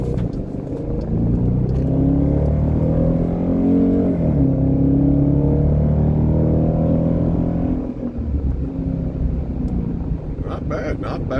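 A 2021 Dodge Durango R/T with a Blastin' Bob's resonator delete revs under load: a loud, deep exhaust drone rising in pitch and holding for several seconds, then dropping back to a rumbling idle.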